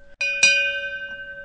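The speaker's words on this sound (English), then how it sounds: "And there's the bell" A bell signals the end of a hard drive comparison segment with two quick metallic strikes, the second slightly louder. Each leaves a clear, sustained ringing tone that decays slowly over more than a second, close and with no talk.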